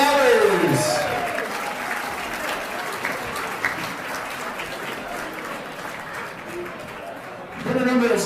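Audience applause for bidders after a lot sells at the Extreevaganza 2021 charity auction, a steady broadband wash of clapping lasting several seconds with voices over it, swelling again near the end.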